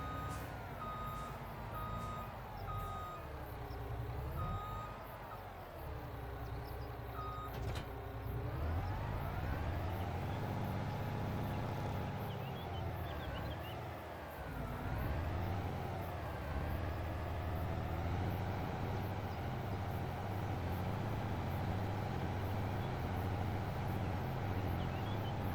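A pickup truck in a video game backs up and drives for about 25 seconds. Steady reversing beeps repeat over a continuous engine drone that rises and falls in pitch. No one speaks.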